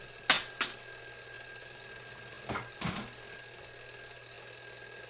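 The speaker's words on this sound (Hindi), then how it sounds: "Highly effective alarm clock." Alarm clock sounding in a few short, sharp bursts—two quick rings, a pause, then two more—against steady tonal background hum, with no talking.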